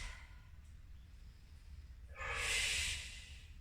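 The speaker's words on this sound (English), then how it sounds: "Breathe here for 2 breaths." During a Pilates stretch, a person breathes softly at first, then gives a louder, longer airy exhale close to the microphone.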